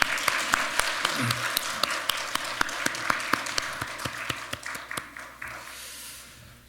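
A church congregation applauds in a steady, rhythmic clap together, sustained throughout before tapering off slightly at the end, with a brief low murmur early on.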